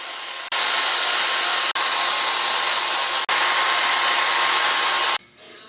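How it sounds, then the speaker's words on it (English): Milling machine boring out spacers for a Yates American B244 table roll, a loud, steady whine in long continuous runs broken by two brief dips before stopping near the end. "I've got a little time on his mill to bore out these spacers for the table roll"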